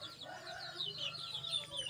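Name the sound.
chicken clucking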